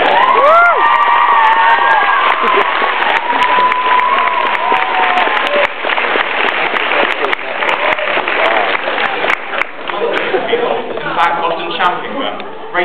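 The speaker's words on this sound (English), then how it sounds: "You can applaud for that." An audience at a school eulogy applauds and cheers, loud continuous clapping mixed with shouts and whoops, including young voices, lasting throughout before thinning slightly near the end.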